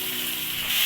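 Turmeric and red chili frying in hot oil for catfish curry, a steady close sizzle that swells slightly near the end.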